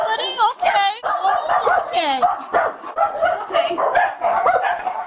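Dogs with disabilities at an animal rescue yip, whimper and bark in rapid overlapping bursts, loud and close, while people talk over them.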